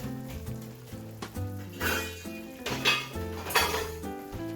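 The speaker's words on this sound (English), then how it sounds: "And I'm going to cover it up." A cooking pot of chicken tikka masala on a low gas flame is covered, with metallic clanks and clinks of the lid and pan over a few seconds, backed by quiet music.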